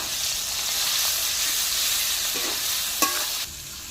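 Steady sizzle of spice paste frying in oil in a pan, with a few scraping stirs and a brief clink near the end; no talking.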